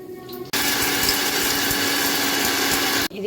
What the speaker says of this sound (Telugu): ముందుగా వేయించుకున్న వీటిని మిక్సీ పట్టుకుందాం.